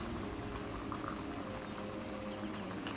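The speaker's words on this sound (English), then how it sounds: "we're going to quickly boil some yam" Pot of water boiling on the stove for yam in Ghanaian kontomre stew cooking, a steady dense bubbling roar with no talk over it, even and continuous throughout.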